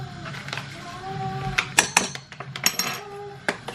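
A utensil stirs a tandoori chicken marinade with tandoori masala in a bowl, giving irregular clinks and scrapes against the bowl, close and moderately loud, with a few faint tonal sounds in the background.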